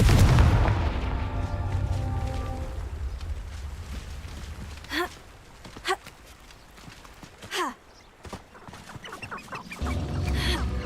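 A Confringo fire spell explodes in the video game Hogwarts Legacy: a loud, booming blast opens and rolls off into sustained game ambience with a few brief chirping accents, before another heavy burst swells near the end.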